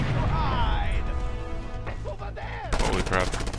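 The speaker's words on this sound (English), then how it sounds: "you can cause quite an explosion." Biofuel shaft blowing up in the video game Just Cause 2, with rattling gunfire and a sharp blast burst near the end, while a player talks over the action.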